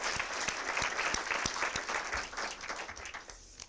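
Sustained crowd applause at an evening charity gala honoring sponsors, many hands clapping in a dense, steady wash with a few sharper close claps, tapering slightly at the end.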